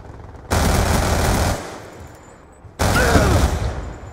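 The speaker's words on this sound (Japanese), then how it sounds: "上から制圧射撃とみたいな感じで撃ちまくってやる。" Two long bursts of sustained automatic gunfire from a machine gun laying down suppressive fire in the Black Ops 2 shooter game, loud and close, separated by a short gap.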